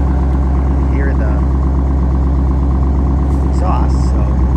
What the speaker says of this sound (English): so it's a custom exhaust, and this one has a straight pipe